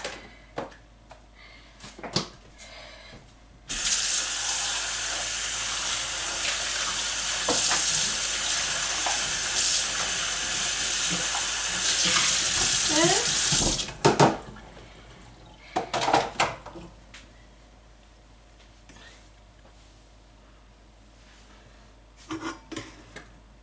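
Kitchen tap runs steadily into a sink for about ten seconds while dishes are rinsed and scrubbed, followed by scattered clinks and rubbing of pots and pans, close by, with no talking.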